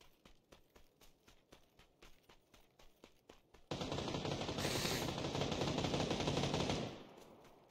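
Video game gunfire: a run of light rhythmic taps, then a sudden loud, sustained burst of rapid automatic shots lasting a few seconds before cutting off abruptly.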